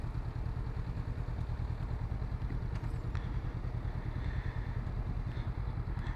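A 2019 Honda CB500F engine running under a rider, a steady, close, low-pitched throb with even pulsing and a faint mechanical clatter, holding at constant strength throughout without talk.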